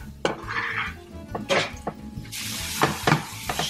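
Onion fries in a pan for paccheri al salmone; sharp utensil clanks against the pan punctuate a light sizzle that swells toward the end.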